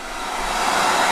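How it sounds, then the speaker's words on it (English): A steady, loud blowing whir like a hair dryer running on high, constant airflow noise with no pauses or voices. "Turn the hairdryer on."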